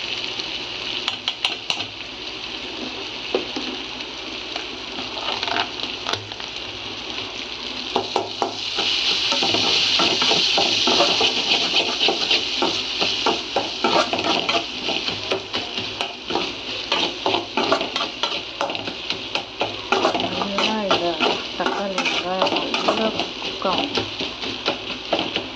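Ginger garlic paste frying and being stirred in a pan while cooking mushrooms, with a steady sizzle and repeated scraping strokes throughout, louder in the middle stretch; a voice talks over it.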